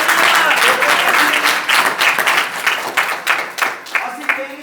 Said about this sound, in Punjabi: ਜੋਰ ਨਾਲ ਤਾੜੀਆਂ ਲਾਈਏ ਪਰਮੇਸ਼ਰ ਦੇ ਵਚਨਾਂ ਨੂੰ